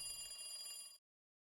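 A telephone bell rings in a quiet room, one bright trilling burst about a second long that stops abruptly, clear and alone.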